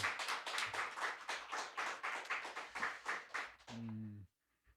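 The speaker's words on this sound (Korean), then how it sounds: "우리 박수로 축복을 하도록 하겠습니다" A church congregation at a Sunday service claps together, a rhythmic burst of many hands in roughly even beats that swells and then cuts off, followed by a short low tone and silence.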